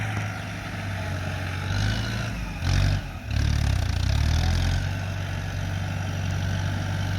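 A Kubota M108S farm tractor runs its diesel engine while pushing crushed rock to grade a road, a steady low rumble with a brief rise in load midway, close and unbroken, with no talking.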